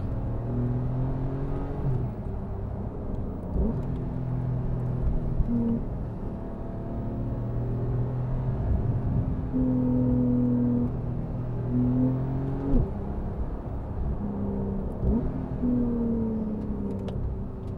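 A 2019 Porsche 911 GTS coupe with a twin-turbo engine and PDK gearbox drives along a twisty road, its engine droning steadily from inside the car with rising and falling pitch as it shifts through gears, no talk.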